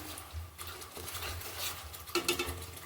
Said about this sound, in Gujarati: બેથી ત્રણ મિનિટ સુધી આ રીતે હલાવતા રહેવાનું છે ગ્રેવીમાં